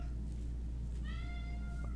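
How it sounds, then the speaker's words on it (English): A cat meows once, drawn-out and fairly faint, over a constant low hum during a card game stream, with no talk. "The meows are back."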